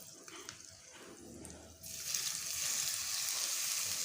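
Hot tempering with curry leaves and turmeric poured onto raw mango chutney, a sudden loud, steady sizzle bursting in partway through after quieter kitchen noise, continuing bright and close to the end.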